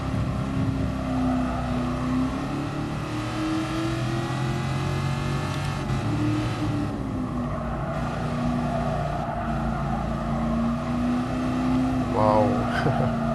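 A 1966 Shelby Cobra 427 engine in the GT Sport racing game, droning steadily and loud throughout with shifting pitch as it accelerates and changes gears, continuous with no break.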